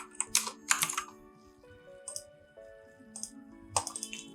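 Clattering computer keyboard keystrokes in bursts while writing CSS code, crisp close clicks separated by quieter gaps, with no speech.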